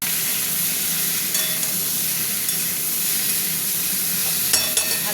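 Spices with salt and chili powder frying in a pan for a rohu fish and potato curry, a steady close sizzle with occasional stirring clinks.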